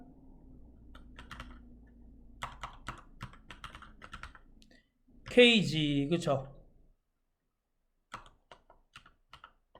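Keystrokes tap unevenly on a computer keyboard during a spreadsheet exercise, sparse clicks coming in short bursts with gaps, while someone speaks briefly between them.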